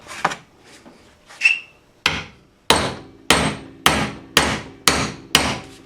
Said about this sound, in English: Now I'm going to beat the rest of the bearing out with that socket.